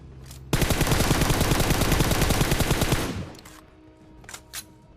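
Sustained automatic gunfire in PUBG Mobile, a dense rapid burst running about two and a half seconds at close range, then fading into quieter game ambience with a few faint distant shots.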